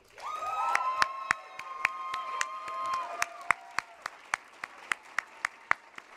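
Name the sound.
applause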